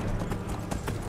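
Horse hooves clip-clop steadily at a walking pace in Skyrim VR, a close rhythmic clatter of repeated strikes over a low ambient hum with no talk.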